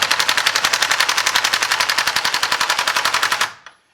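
A Milwaukee M18 High Torque impact wrench 2767 on setting 1, limited to 100 foot-pounds, hammers in a rapid, even, loud burst of impacts for about three and a half seconds before stopping abruptly.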